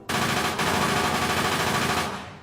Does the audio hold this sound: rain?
no